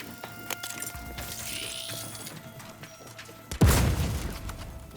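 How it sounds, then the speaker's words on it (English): An explosion bursts in the video game The Outer Worlds 2, a sudden heavy boom that rolls off into a rumbling tail after a stretch of quieter game ambience. "Explosion imminent."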